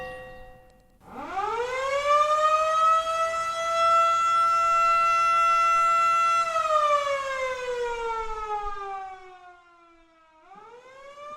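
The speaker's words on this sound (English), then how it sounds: "Siren always went at 1 o'clock on a Sunday afternoon." A loud wailing fire station siren, sounding in its weekly Sunday test, winds up, holds a long steady tone, then slowly falls away before starting to rise again.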